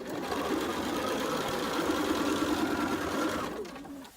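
Quilt pieces run through a sewing machine for a fast, continuous whirring stitch that holds steady for about three and a half seconds and then stops, loud and close-up with no voices.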